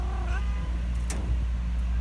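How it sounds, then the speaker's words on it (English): A pet cat gives a short meow, close and fairly clear over a low steady hum, followed by a brief higher squeak. "There's my kitty."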